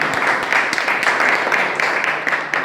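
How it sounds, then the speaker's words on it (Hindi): Dense, steady applause from a seated audience at a Holi gathering and poetry evening, continuous clapping close and fairly loud for the whole stretch with no break. "तो थोड़ी सी तालियां गुलशन भाई की"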